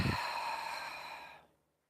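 One long, soft exhale during a breathing exercise, a breathy sigh that holds steady for over a second and then fades into silence.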